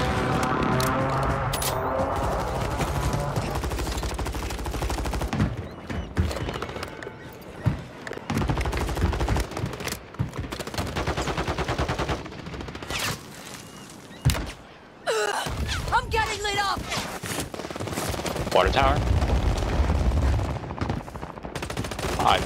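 Call of Duty gameplay with dense gunfire: rapid automatic bursts and single shots, thuds and explosions, loud and near, mixed with game sounds and occasional voices.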